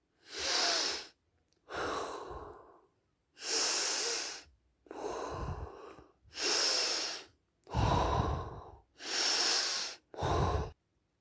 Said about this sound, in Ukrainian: Вдих, видих, вдих, видих.